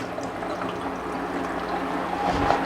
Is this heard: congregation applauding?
no